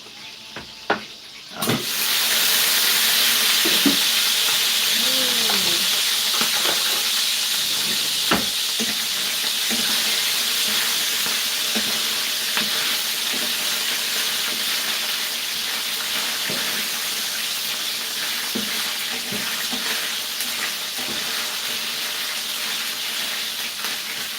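Food sizzles and spits loudly in a hot pan at home, a steady close crackle that starts abruptly and runs throughout, with occasional clinks of utensils and faint splashing.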